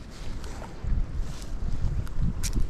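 Gusty wind buffets the microphone at a lakeside campsite, a steady low roar swelling in stronger rushes throughout, with no voices.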